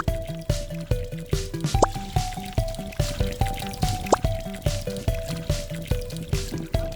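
Water trickles and drips steadily in a small solar-powered garden bird perch fountain, with a repeating rhythmic splashing pattern and a couple of brighter drips, close and moderately quiet.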